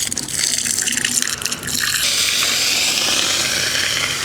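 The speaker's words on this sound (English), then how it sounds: "I personally just like to let it come out of the hose because you can get the biggest volume coming out" Water from an open garden hose gushes through an air conditioner's outdoor condenser coil, a loud, steady rush that shifts to a fuller, broader spray midway as the flow hits the fins.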